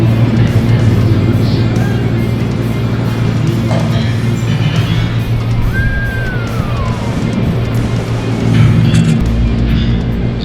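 A 2018 Kenworth W900 truck rumbles continuously outdoors as it heads off on a short trial run, a low steady engine drone with a faint rising whine passing through midway and a brief deeper surge near the end.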